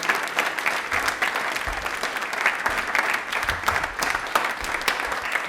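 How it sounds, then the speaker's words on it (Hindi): Studio audience at a televised Rajasthani quiz show breaks into loud, sustained applause, dense clapping with a few stronger accents, heard on its own without talk. "तालियां में बजा दो उसके लिए जोरदार वाली।"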